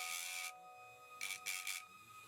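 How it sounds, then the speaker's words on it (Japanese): A rotary tool grinds a plastic Gunpla model part with a high, steady whine, broken by short bursts of louder grinding as the bit meets the plastic. "大きく削る場合はリューターを使うと楽ですね。"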